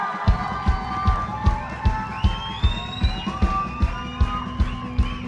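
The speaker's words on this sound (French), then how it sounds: "Faire un énorme applaudissement pour celui qui est venu il y a 2000 ans pour toi" A congregation at an ICF church celebration claps in a steady, regular beat and cheers, with sustained tonal sounds running beneath; the sound is loud and close, with crowd voices throughout.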